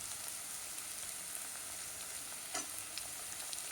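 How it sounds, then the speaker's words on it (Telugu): Onions, garlic, cashews and ginger sizzle in hot oil in a pan, a steady close frying hiss with a brief stir or clink partway through. "ఇది కొద్దిగా వేగనివ్వాలండి."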